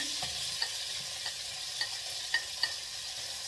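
Onion frying and being stirred in a pan, with a steady sizzle beneath a few distinct scraping clicks as the spatula moves through it, close and fairly quiet.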